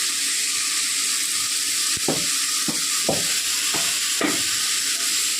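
Homemade chili powder sizzles as it is sautéed in a pan for idli sambar. A constant, close frying hiss runs throughout, with several short scraping stirs.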